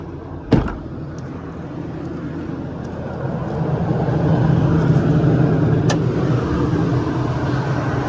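A 2019 Ford F550 diesel truck engine cranks with a sharp start, then settles into a steady, close idle whose rumble grows louder and fuller partway through.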